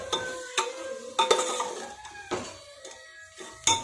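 Tomatoes go into a frying pan for masale bhat and are stirred with a spatula, giving a few scraping clinks and soft sizzles.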